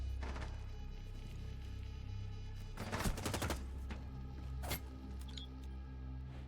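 Gunfight in a competitive match of a shooter video game: a couple of sharp bursts of gunfire ring out over a steady game hum, the first around the middle and a quicker one soon after, fairly loud and close.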